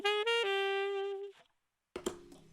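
Saxophone played dry with no reverb: a couple of short notes and one held tone that stop abruptly into silence, then a fresh note begins, all close and unadorned.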